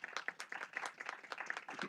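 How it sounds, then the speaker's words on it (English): A small audience at a school board meeting claps briefly, scattered individual hand claps forming a light, fairly quiet round of applause lasting under two seconds. "Let's give them a round of applause."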